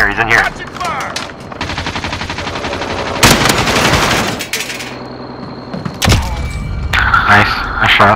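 Rapid automatic gunfire from a Call of Duty Modern Warfare/Warzone match, loud bursts and dense fusillades with sharp impacts and thuds, mixed with game effects and players talking over it.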